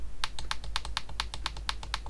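Laptop keyboard keys pressed in a quick, steady run of about twenty crisp clicks, close and clear with no talking.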